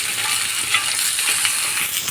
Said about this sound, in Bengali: এইটা শাকটা দিয়ে আমরা কিছুক্ষণ নেড়ে চেড়ে নামিয়ে নেব